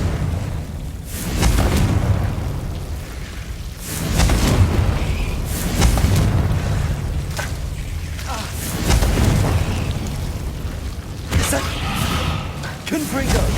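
Confringo spell blasts in the Hogwarts Legacy game, during a mountain troll fight, boom out as repeated loud bursts and thuds over a steady rumble of game noise, with several heavy impacts spaced across the stretch.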